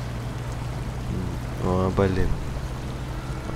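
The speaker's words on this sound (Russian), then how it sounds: "Так, через лужу переезжаем." A truck in the video game SnowRunner drives through a water puddle, making a steady watery rumble and churning under the engine throughout. A man briefly exclaims partway through.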